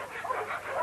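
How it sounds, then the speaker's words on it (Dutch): Dogs yip and bark in quick, short bursts at moderate distance, several overlapping calls in under a second with no clear talk. "Af, koest, lieve hondjes."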